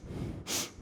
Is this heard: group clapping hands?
no